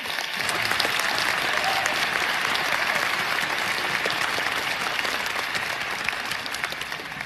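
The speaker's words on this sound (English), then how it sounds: "We could probably give them a round of applause right now." Steady, dense applause from a large audience following a student's speech at a Boston University graduation, continuous clapping at an even level with no talking.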